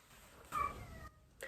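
A pet cat meows indoors, two or three brief drawn-out calls with quiet pauses between them, close by and fairly soft.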